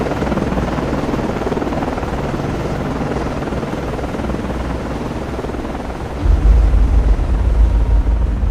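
A helicopter launching from a destroyer in the Cold Waters naval game gives a loud, steady rotor and engine roar that swells deeper and heavier near the end, with no voices.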